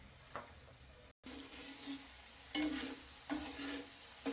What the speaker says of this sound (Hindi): अब इनमें हम डाल देते हैं थोड़ा सा किशमिश और उनको भी हम फ्राई कर लेते हैं